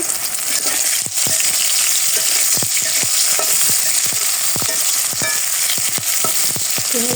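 Turned-over Kashmiri dough pieces crackle in hot oil in a wok, a constant close sizzle with frequent quick clicks and scrapes from a utensil flipping and nudging them.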